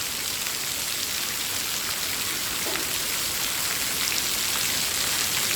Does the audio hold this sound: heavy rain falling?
yes